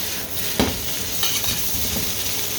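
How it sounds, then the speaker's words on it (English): Fried rice sizzles and is tossed in a pan on an electric stove, a constant close frying hiss broken by a few soft whooshing scrapes as the rice is thrown and stirred. "if you toss it like that, you can kind of dry it out a bit as it gets thrown into the air"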